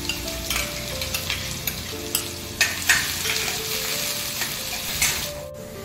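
Onion, garlic cloves, green chillies, cumin and mustard seeds sautéing in oil for shevgyachya panachi bhaji, a loud, close sizzle with repeated spatula scrapes and clinks against the pan, no voices.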